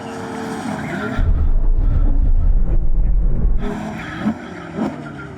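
Ferrari Purosangue engine downshifting, a loud deep roar that rises and holds, then falls to lighter revving with a few short blips.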